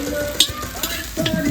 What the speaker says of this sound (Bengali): পাঁপড় ভাজা হচ্ছে